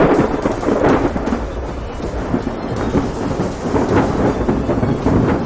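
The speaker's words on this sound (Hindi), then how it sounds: "तूफान लगातार भयंकर रूप लेता जा रहा होता है" Thunderstorm with dense, continuous rain and rolling thunder rumbles swelling throughout, loud and enveloping with no voices.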